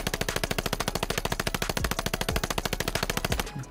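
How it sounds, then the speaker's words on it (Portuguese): Rapid, steady automatic gunfire from a video-game gun fitted with a fire-rate build, loud and close with evenly spaced shots throughout and no voices, ending in a brief tail. "presta bem atenção de como que ela tá atirando, ó. Ela tá atirando assim nessa velocidade."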